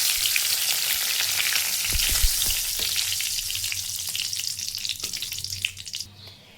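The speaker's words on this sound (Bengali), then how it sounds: "ঘি গরম হয়ে গিয়েছে, এখন আমি এর মধ্যে দিয়ে দিচ্ছি ফাটিয়ে রাখা এলাচ এবং দারচিনি" Cardamom, cinnamon and bay leaves sizzle in hot ghee for a vegetable pulao, a loud, continuous crackling hiss with a few sharper pops and scrapes, alone without any voice, fading slightly toward the end.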